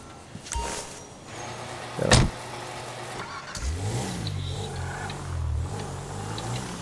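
A BMW's engine in Grand Theft Auto 5 revs up after a sharp burst near the start, then settles into a steady mid-pitched drone, with no talking.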